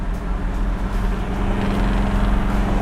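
A 1969 Camaro Z/28 V8 revving up, a loud, close, continuous engine roar that holds steady and builds slightly over a few seconds.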